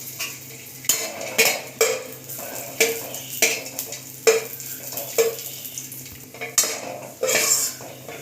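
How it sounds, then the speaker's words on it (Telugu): Cashews and raisins frying in a pan for semiya kesari, with a spoon scraping and clinking against the metal in repeated strokes over a soft background sizzle. "జీడిపప్పు వేసేసుకొని నీట్గా బ్రౌనిష్ కలర్లో ఫ్రై చేసుకోవాలి"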